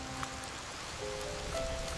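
Steady cartoon rain falling on a village scene with leafy trees, a dense continuous patter that stays even and fairly loud for the whole stretch, with faint tonal hums in the background.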